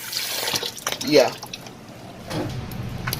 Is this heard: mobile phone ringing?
no